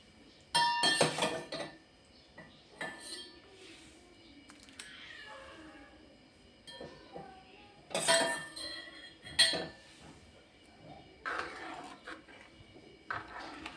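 Shernya pods are dropped into a cooking pot of green chickpea curry, producing scattered metallic clinks and clatters with quiet pauses in a home kitchen.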